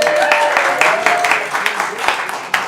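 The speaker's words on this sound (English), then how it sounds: "Can we give them a round of applause?" An audience claps at a live comedy show at Bollix Manor, scattered hand claps with a voice talking over them for the whole short stretch.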